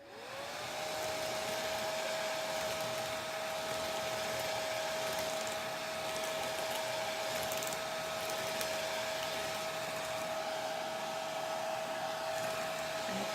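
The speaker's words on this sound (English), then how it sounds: "now we are going to blow dry this" A hair dryer blows at a steady, constant pitch for the whole stretch while drying a homemade kitchen decor craft piece, heard fairly faint and alone without talking.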